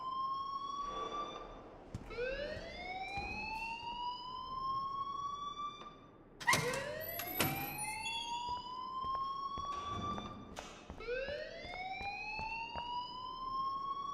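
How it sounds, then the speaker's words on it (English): A school fire alarm in the video game Life Is Strange wails in repeated rising electronic sweeps, several overlapping cycles sounding at moderate distance with no talk over it. "please turn off that alarm since that's your job."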